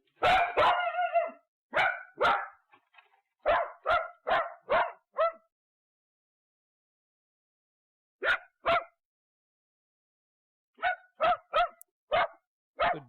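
A dog barks loudly and close by inside a house, in sharp bursts of two to five barks separated by silent gaps.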